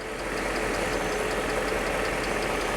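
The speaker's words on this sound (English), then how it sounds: "that is one of Mercedes' most reliable engines, the old 5-litre V8" A Mercedes SL500 with the old 5-litre V8 idles steadily, a smooth, even mechanical drone with faint regular ticking, close and constant throughout with no talking.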